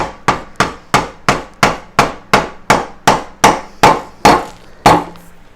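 A hammer taps down parts while a chucking scraper is being assembled, making about a dozen sharp, close strikes in a steady, even rhythm with no talking.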